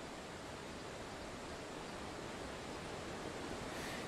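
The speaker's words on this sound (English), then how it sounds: "take a look at this little waterfall that's going on over here" A small waterfall spilling into a trout stream, a steady broadband rush of falling water, close and constant throughout with no voices.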